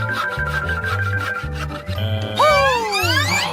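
A hand saw cutting rhythmically through a stubborn food package, several back-and-forth strokes in steady rhythm, close and clear, followed by bright whistling, sliding musical effects, with no talking.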